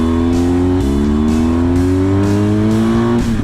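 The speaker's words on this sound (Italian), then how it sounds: "Comunque sentire il rumore della Krapovic." A motorcycle fitted with an Akrapovic exhaust rides on a winding provincial road in the Marche and Tuscany hills. A loud, constant engine drone rises slowly in pitch, with brief gear-shift dips and a whooshing wind rush, and no one speaks.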